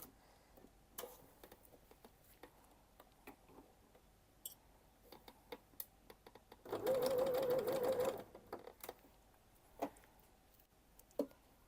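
A sewing machine stitches a seam down a luxury bag with an invisible zip, one steady run of about a second and a half standing out above quiet background handling sounds and scattered ticks.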